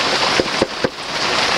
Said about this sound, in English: I like being inside when it's raining.